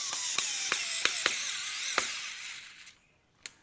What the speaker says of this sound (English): I'm gonna pick up our vessel-powered screwdriver